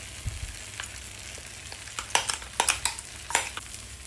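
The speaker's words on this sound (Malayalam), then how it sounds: "എന്നിട്ട് 5 മിനിറ്റ് വീണ്ടും അത് ഒന്ന് ഇളക്കി യോജിപ്പിക്കുക" Green gram and grated coconut being stirred in a pan for cherupayar thoran, a soft low sizzle under a string of close, crisp spatula scrapes and taps that cluster toward the end.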